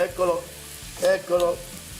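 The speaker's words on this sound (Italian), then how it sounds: "Eccolo che sfrigolia" Guanciale sizzles in a pan on high heat while potato slices are prepared alla gricia, a steady hiss with a few bursts of louder crackle and what sounds like stirring, close and fairly loud.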